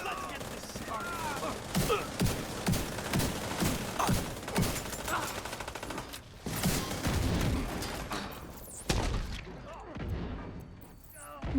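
Rapid video game gunfire aimed at the floor, with dense bursts of automatic shots, loud cracks and brief pauses, continuing nearly throughout with a few louder booms near the end.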